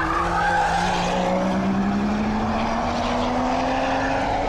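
A Volvo V60 at speed on a track sounds as a sustained engine drone rising steadily in pitch, loud and continuous, with broadband road and wind noise underneath and no talk.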